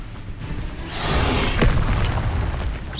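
Incendio fire spell cast in Hogwarts Legacy: a loud whooshing burst of flame that builds, peaks in a sharp crack, and trails off into roaring crackle, with no talk.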